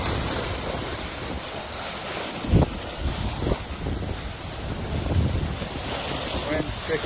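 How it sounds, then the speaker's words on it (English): Strong wind roars across the microphone on a sailboat moving fast at sea, with steady broadband rush, water and surf noise beneath and a few brief gusty thumps. "Wind's picked up."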